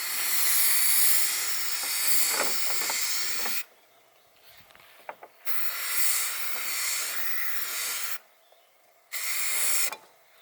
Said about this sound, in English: I'm going to hit it with some self-etching primer